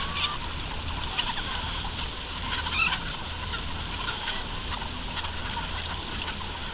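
Laying hens feeding on organic wheat and whey from a cheesemaker, a dense steady clucking and squawking flock heard alone, with a brief louder burst of squawks near the middle.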